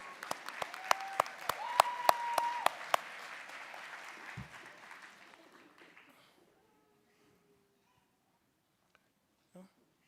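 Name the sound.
audience applauding graduates receiving nursing pins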